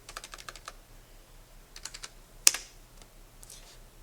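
A short command goes in on a computer keyboard at close range: a quick run of light key taps, a pause, a few more taps, one sharper keystroke, then a couple of faint clicks.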